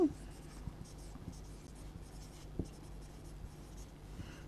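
A pen scratches on paper for a few seconds, faint and close, with soft irregular strokes and light taps in a quiet room.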